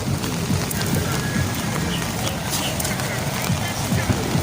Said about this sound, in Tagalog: kanina pati yung ulan na to eh. Walang tigil.